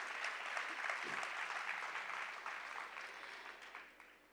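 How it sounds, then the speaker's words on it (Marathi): Audience applause fills a hall at a cultural program, a steady wash of many hands clapping together that holds for several seconds and then slowly fades, with no talking over it. "आपण एकदा त्यांच्यासाठी टाळ्या वाजवूया"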